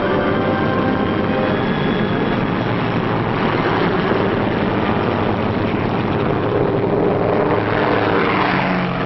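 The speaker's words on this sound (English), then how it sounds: "we heard the roar of engines as the Pathfinder ships began hopping off" Steady, loud roar of World War II US Army Air Forces propeller transport aircraft engines at takeoff, droning continuously without a break, close and powerful, with no voices.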